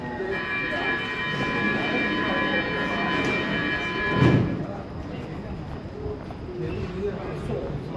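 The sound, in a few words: metro train arriving at station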